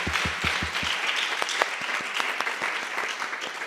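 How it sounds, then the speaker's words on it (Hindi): Audience applause at a Hindi spiritual discourse on equanimity at a meditation hall, with a burst of low clapping thumps at the start and then a steady, dense wash of clapping throughout. "ताली बजाओ"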